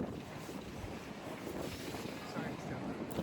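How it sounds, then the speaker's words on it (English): Strong wind gusts across an outdoor seating spot in Lisbon, a steady broadband rush with microphone buffeting throughout, loud and close with no clear talk. "the wind is right in the eyes"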